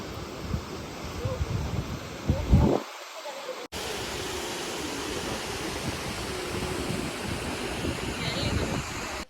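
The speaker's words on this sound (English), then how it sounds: "the burble of waterfall is just magnificent and it's so pleasant to hear" Waterfall tumbling down the mountainside at Kavalshet Point in Amboli, Maharashtra, a steady broad rushing roar that fills the scene, with a brief dip near the start before the constant wash resumes.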